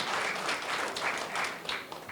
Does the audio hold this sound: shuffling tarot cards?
no